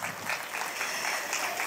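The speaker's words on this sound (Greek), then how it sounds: "Χειροκρότημα." Audience applause at a traditional dance festival in Kozani, Western Macedonia, Greece, a sustained, fairly distant patter of many hands clapping with slight swells, fading and returning over a short stretch.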